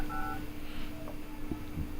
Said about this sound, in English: how to disable annoying iPhone dial tone sound in second. So when I dial any number